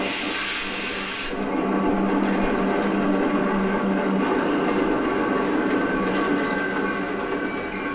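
A train rolls past close by with a loud, continuous roar of wheels on rails and rattling cars, steady throughout with a slight rise after the first second.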